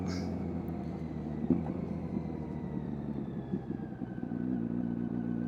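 A 2025 Kawasaki Z900SE motorcycle rides through town, its engine a steady, close, fairly loud drone with a faint rise in pitch and some small clatters, no talking.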